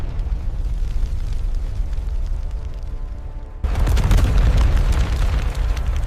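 A deep, rumbling explosion roars loudly as a fuel depot beside a harbor blows up, with a sudden surge in intensity midway that sounds like a powerful blast.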